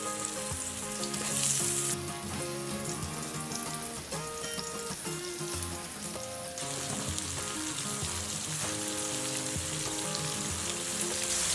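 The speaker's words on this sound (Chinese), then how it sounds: "锅内倒油，将笋肉馅部分朝下放" Spring bamboo shoots stuffed with pork filling, coated in dry starch, fry meat-side down in hot oil in a wok, a steady loud sizzle and crackle lasting throughout, with no talking.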